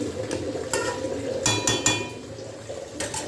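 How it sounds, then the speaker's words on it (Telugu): Chicken pieces fry in a pan for dum biryani under a steady low sizzle, with a few sharp clinks of a spoon scraping and stirring, close by. "ఈ చికెన్ వేయించుకుందాం"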